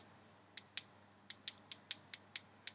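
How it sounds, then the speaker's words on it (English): Crisp, sharp button clicks, about ten of them at an uneven pace, quiet and close, with nothing else but faint background hiss. "everyone is so obsessed with how clicky these buttons are"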